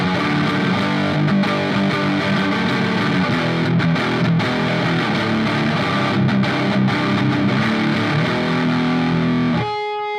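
Electric guitar played with gritty overdrive from a Donner Extreme Driver pedal into a Marshall JCM 900 amp, a loud continuous distorted riff with sustained chords that cuts off abruptly near the end.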